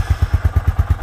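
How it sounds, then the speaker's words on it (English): A 1982 Honda FT500 Ascot, a big single-cylinder motorcycle, runs steadily close by, its low, even thumping pulses coming about nine times a second with nothing else over them. "it starts and runs like a new motorcycle"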